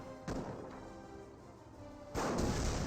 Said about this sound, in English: The mortar half track may have fired a mortar right there.